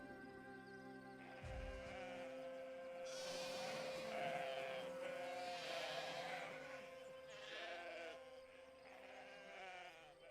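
Sheep bleating repeatedly inside a barn, several animals calling over one another, moderately close, with a steady low hum underneath.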